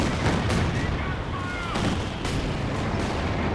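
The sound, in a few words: Katyusha rocket artillery barrage in Company of Heroes 2 video game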